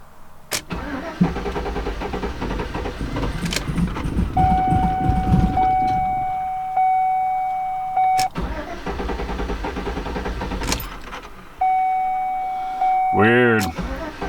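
A Chevrolet Silverado with a cammed 5.3 engine and new fuel injectors cranks close by in a few bursts without catching, with a steady electric hum between attempts and a voice talking over it.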